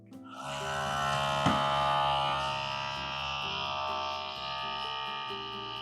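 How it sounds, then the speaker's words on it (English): An Outin Mino portable electric coffee grinder grinds beans with a steady whining motor hum and buzzing harmonics, starting abruptly and running continuously at moderate level, with a short sharp crack partway through. "So Outin Mino grinder is not really delivering."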